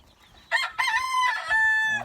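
Native Bisaya rooster crowing once nearby, a loud, clear cock-a-doodle-doo in several rising and sustained segments after a brief quiet start.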